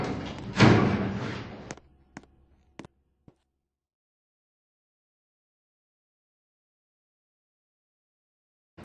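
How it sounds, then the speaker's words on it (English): Lift doors open in a Roblox game on an old lift with Thames Valley controls: a brief rushing slide followed by a few sharp knocks and taps, then silence. "Doors opening."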